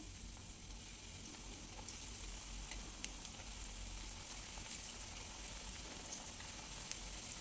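Bread pieces frying in oil for a sweet, a quiet, steady crackling sizzle with tiny scattered pops, faint and even throughout, with no voices.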